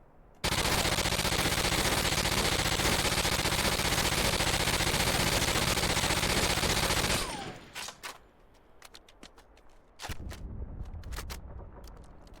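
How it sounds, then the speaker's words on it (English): An M240 light machine gun in Call of Duty fires one long sustained automatic burst of loud, dense, rapid shots for about seven seconds, followed by mechanical clicks, a few sharp reload clacks and a short rattle. "this is the last light machine gun, is the M240"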